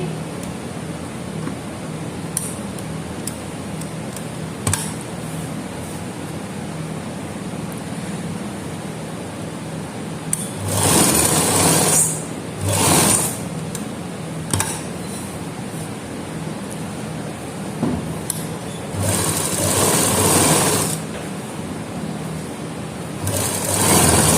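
A sewing machine stitches a neckline onto a shirt in a few separate bursts of whirring, each lasting one to two seconds, with quiet pauses between them and no talking.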